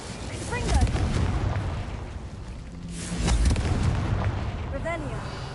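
Explosive magical blasts from the Confringo spell in the Hogwarts Legacy video game, two loud booming bursts around one and three seconds, layered over game sounds and a voice speaking.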